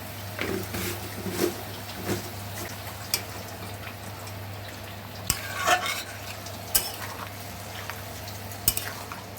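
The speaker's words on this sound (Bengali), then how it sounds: "এবার আমি ওলটা দিয়ে দিচ্ছি" Elephant foot yam is stirred and sautéed in a pan, with a faint sizzle under intermittent scraping and clinking of a utensil against the pan, sharp knocks standing out now and then.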